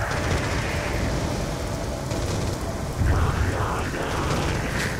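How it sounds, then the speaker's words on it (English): Steady video-game rain in Call of Duty Zombies Origins hisses continuously, with a faint low rumble like distant thunder underneath and soft background voices. "This is still rain, right?"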